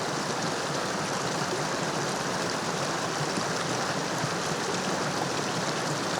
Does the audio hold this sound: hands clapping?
no